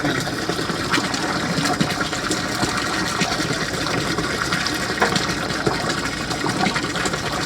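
Water pours steadily and loudly at close range, a continuous gushing stream with no talk over it.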